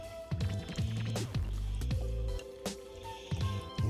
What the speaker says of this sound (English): Add half of them in and kind of stir them around.